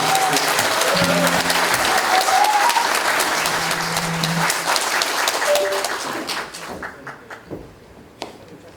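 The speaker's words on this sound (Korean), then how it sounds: "큰 박수로 부탁드리겠습니다." Loud, dense applause from a sizable crowd at a building reconstruction briefing in Yeouido, Seoul, fills the room, then thins out into scattered claps and fades toward the end.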